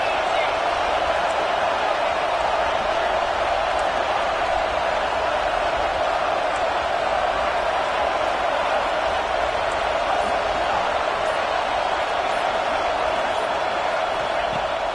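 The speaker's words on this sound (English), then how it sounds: "The Buckeye crowd alive on 3rd down." Ohio State Buckeye stadium crowd in a college football video game, Oklahoma at Ohio State, a steady loud roar of cheering that holds at one level throughout without breaks.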